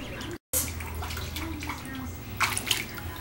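A duck splashes water in a tub, sloshing, with a couple of sharper splashes near the end and a brief dropout early on.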